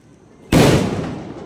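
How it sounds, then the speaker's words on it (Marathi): A firecracker bomb goes off at a birthday party with a single loud, close blast that rumbles and decays over about a second. "हा बॉम्ब लावतोय लावू दे फटफट लाव"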